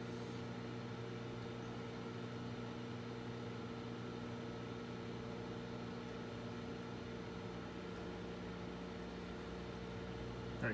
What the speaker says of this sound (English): So we're microwaving for our second 30 seconds